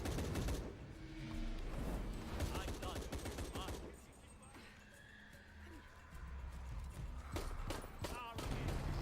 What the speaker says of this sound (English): I shoot Amaru for the last time there with a pistol, and that's the end of the fight.